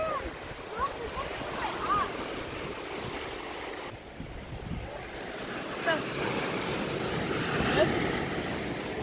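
Waves wash onto a beach in a continuous rolling surge, mixed with gusty wind buffeting the microphone, fairly loud and steady with swells rising and falling.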